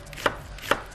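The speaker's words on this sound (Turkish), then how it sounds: "Maydanozumu, dereotumu doğrayayım çünkü." A knife chops parsley and dill on a cutting board in a home kitchen, giving two crisp, close strikes about half a second apart over a quiet background.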